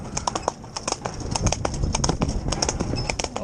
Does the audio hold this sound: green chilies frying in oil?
no